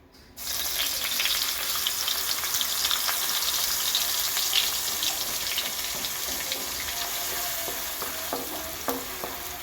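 Grated beetroot frying in ghee, stirred steadily in a pan, producing a continuous close sizzle with scraping stir sounds throughout and no talking.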